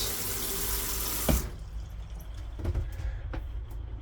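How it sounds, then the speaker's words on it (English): A bathroom mixer tap runs with a loud, steady rush of water into the basin, then is shut off at once, leaving faint drips and light clinks in a quiet room. "in the bathroom, you've got your mixer tap"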